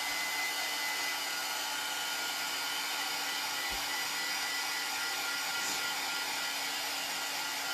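A hair dryer blows steadily on a wet craft piece, a constant close airy whir lasting throughout with no talk.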